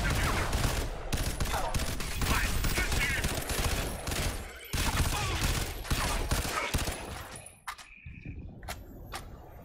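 Rapid bursts of gunfire from a weapon in the video game Crysis 3 rattle almost continuously and loudly, with brief gaps, and the firing drops away near the end.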